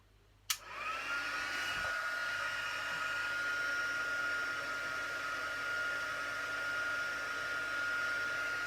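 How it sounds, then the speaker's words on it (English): A heat gun switches on with a click and a rising whoosh, then blows a steady, even airy roar with a faint whine, close and unbroken for several seconds. "I'm just going to put my heat gun on, so just if you need to turn your sound down"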